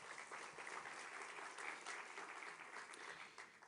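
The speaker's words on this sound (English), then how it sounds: "Et je vous propose qu'on les applaudisse aussi." Sustained applause fills a large hall at a diplomatic conference in Paris, a steady dense clatter of many hands clapping together, fairly distant and even throughout, with no voices standing out.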